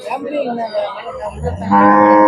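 A crossbred cow moos loudly and close by at a cattle market in Tamil Nadu, one long drawn-out low call near the end, after a stretch of murmuring voices and farmyard noise.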